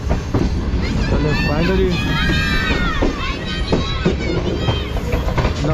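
Shalimar Express passenger train pulling out of Nawabshah junction on rails, a continuous rumble and clatter of cars rolling close by while people talk over it.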